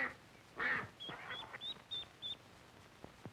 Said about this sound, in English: Mother Duck quacked with excitement.